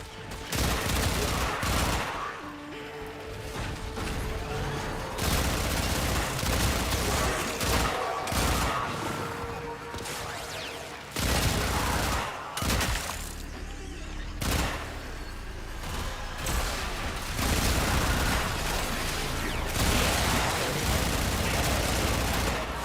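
Heavy sustained gunfire from Warframe combat, dense overlapping bursts and booms running almost nonstop with brief lulls, loud and close throughout, no talking.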